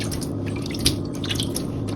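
Water poured off seeds soaking in a container, soft splashing and dripping with a few sharper drops over a low steady background.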